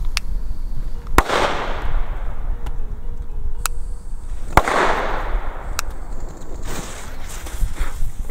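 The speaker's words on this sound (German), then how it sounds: "weil wir haben richtig viele einzelne Böller." Single firecrackers are set off outdoors in December, several sharp, loud bangs spaced irregularly over a few seconds, with hissing bursts and faint wind between them.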